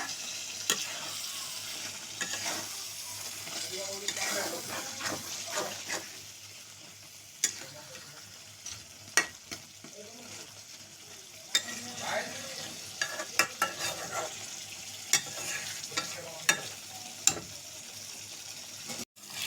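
Prawn curry with freshly added green chillies is stirred in a pan, a low steady sizzle broken by repeated sharp scrapes and clacks of the spoon, close and fairly quiet, no speech.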